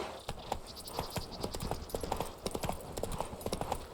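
Hoofbeats of Roach, Geralt's horse in The Witcher 3, clip-clopping in a steady galloping rhythm, close and continuous, with a faint snort or whinny hint amid game ambience.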